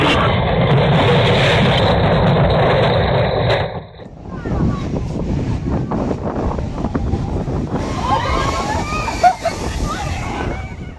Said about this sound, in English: massive waves crashed over the seawall